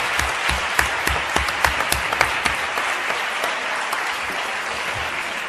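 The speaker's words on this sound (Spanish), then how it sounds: "us voldria demanar a tots vosaltres un fort aplaudiment per a aquestes persones" Audience applause at an ADHD association event, steady dense clapping with a few sharper individual claps standing out near the front, continuing evenly to the end.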